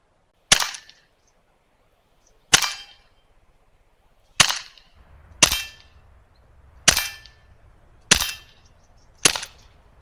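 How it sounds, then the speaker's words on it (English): Fifty-caliber powder rounds from an air gun strike steel targets in seven sharp, ringing metallic cracks spaced one to two seconds apart. Each crack is loud and close with a brief clanging decay, and there is no talk. "now we got some of these 50 caliber powder rounds. Let's put them on steel."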